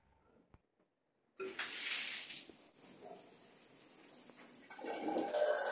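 A bathroom tap suddenly turns on after near silence, water gushing strongly and steadily with no pressure pump, a close, bright hiss that swells slightly near the end.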